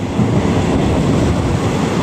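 A passenger train on the Mahachai to Wat Sing line rumbles loudly and continuously, a dense low roar of wheels and rolling carriage noise heard from on board, with no talking.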